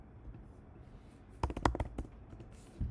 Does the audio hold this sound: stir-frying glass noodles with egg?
no